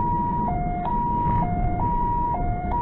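An ambulance siren wails at a house beside fields in Miaoli, Taiwan, a loud, continuous two-tone sound alternating high and low in a regular rhythm.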